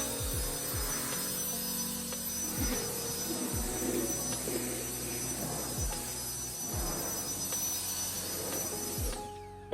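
A cordless handheld turbo blower fan running in low mode gives off a steady, close whirring hum with a high whine, with repeated dull thumps underneath, and then cuts off at the end.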